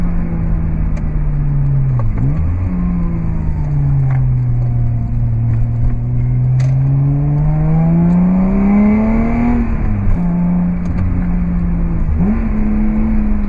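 A Subaru Legacy with a swapped H6 engine pulls through the gears, its engine note rising steadily and dropping at each shift, loud and continuous from inside the cabin, with no voices heard.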